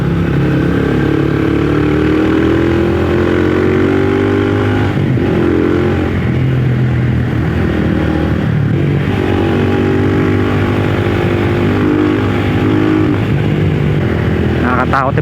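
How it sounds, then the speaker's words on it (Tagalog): A homemade motorcycle engine runs at full throttle, a loud, continuous, rough mechanical drone with a rising and falling pitch as it revs and a constant clattery undertone, close up and unbroken. "full throttle"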